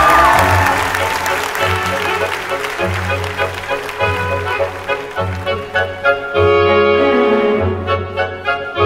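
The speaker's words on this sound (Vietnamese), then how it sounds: "Xin dành tràng pháo tay nồng nhiệt để chào đón" Warm applause greeting a dance couple on a televised dance competition stage, dense clapping at first that thins out as music with a steady beat rises and takes over.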